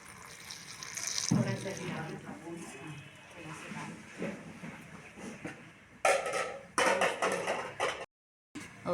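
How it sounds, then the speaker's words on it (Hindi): Water is poured into a pot for boiling in a village kitchen in Jharkhand, a steady splashing pour with bursts and a brief dropout near the end, while people talk faintly throughout. "इसमें हम लोग पानी डाल रहे हैं"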